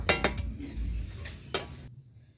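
Metal pots and a wok knocked and set down on a stovetop, a few sharp clanks and clinks over about two seconds, close and fairly quiet, with no talk.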